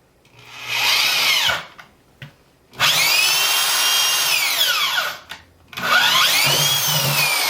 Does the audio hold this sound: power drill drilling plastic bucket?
yes